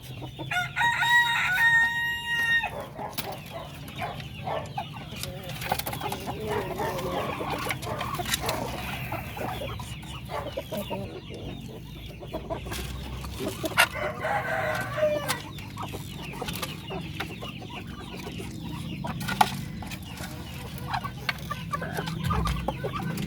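Darag breeder hens clucking and a rooster crowing at feeding time in a farm pen, with repeated cackles and a crow near the start over steady background farmyard noise.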